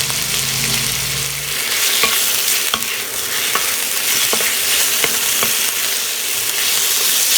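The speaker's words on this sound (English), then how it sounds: "we're going to be stir frying the entire time" Beef and mixed vegetables sizzle loudly in a hot pan while a utensil scrapes and tosses them, giving irregular clacks over the steady hiss.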